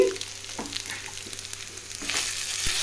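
Cooked rice being stirred into a mango pulihora mixture in a pan, with soft scraping strokes over a low sizzle, moderately close and fairly quiet.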